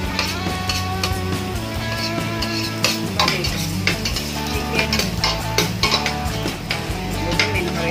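Garlic sautéing in a pan for chopsuey, stirred with clattering utensil scrapes and metallic knocks over a soft sizzle, close and busy, with music-like tonal background running throughout and no talk.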